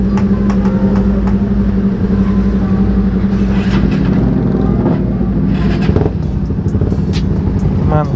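A Suzuki Satria FU motorcycle with a raw aftermarket exhaust runs loud and close, its engine idling in a rough burble and then revving up and dropping back, with other street traffic and brief voices in the background.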